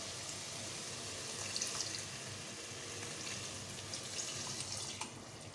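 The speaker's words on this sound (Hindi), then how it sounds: "अब हम इसमें ऐड करेंगे पानी।" Water poured into a pot of bottle gourd curry after the gourd was sautéed with spices, a steady broadband splashing and hissing that continues evenly throughout with no voices.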